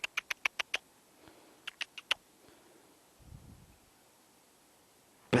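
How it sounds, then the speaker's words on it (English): Ducks waking up in the morning, giving short sharp calls in a quick run of six, then a few more after a pause, fairly close, with soft rustling and a low thump between. "Now, look at all them ducks, look."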